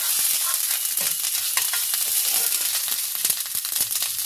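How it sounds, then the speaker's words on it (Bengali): Grated ginger fries in a pan for paneer paratha filling while being stirred, giving a continuous bright sizzle with scraping and stirring scuffs, close and steady with no talk. "আদাটা একটু নাড়াচাড়া করে দেবো কাঁচা গন্ধটা যাওয়া অবধি"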